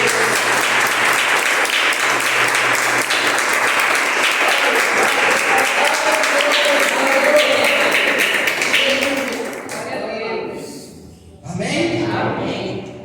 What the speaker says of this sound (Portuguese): eu quero que você dê uma salva de palmas para Jesus.